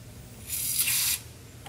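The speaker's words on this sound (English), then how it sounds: "Now let's get some chain wax in here." Short hiss of chain wax lubricant sprayed from an aerosol can onto a part of a vintage Toro Personal Pace lawn mower, a single burst under a second long, close and fairly faint.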